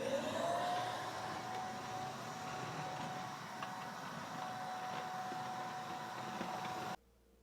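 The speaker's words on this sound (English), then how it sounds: "So I gotta get vacuuming." A weak household vacuum cleaner runs over the floors of a home under construction, giving a steady, fairly quiet whining drone that rises in pitch as it starts and then cuts off abruptly near the end.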